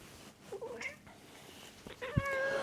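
A cat meows a few times, short plaintive calls with a rising, drawn-out final meow, fairly close in a quiet indoor room.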